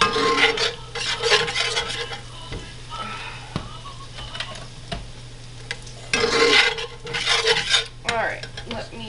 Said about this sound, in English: And give it another stir.